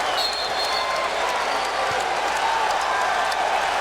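A basketball arena crowd at a college game roars and cheers continuously after a steal and slam dunk, a loud, dense wall of crowd noise that never lets up.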